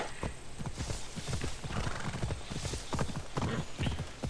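Horse hooves in Assassin's Creed Odyssey make a fast, rhythmic clip-clop of repeated hoofbeats that runs steadily throughout, close and moderately loud with no talk over it.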